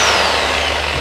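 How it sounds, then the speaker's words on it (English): A mains-powered reciprocating saw with a heavy-duty blade runs loud and close in a steady high whine, used on a VW Crafter camper van conversion. "This is the mains one. You can get battery powered ones, but basically if you turn it this way, it's just a big jigsaw"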